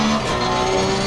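In the Assetto Corsa Competizione racing game, a GT race car on the Nürburgring pulls out of a right-hand corner at full throttle, its engine note loud and close, rising steadily with faint tyre scrub.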